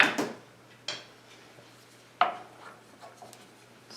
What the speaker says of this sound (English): Stir until that's blended in.